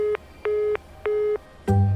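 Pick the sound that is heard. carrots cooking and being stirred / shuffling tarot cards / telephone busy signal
telephone busy signal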